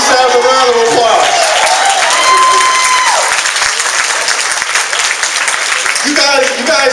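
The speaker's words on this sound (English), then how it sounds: "Give yourselves a round of applause." An audience at a relaunch gathering of a thinkers' group applauds loudly, dense sustained clapping from a roomful of people with a few whoops and raised voices mixed in, fading near the end.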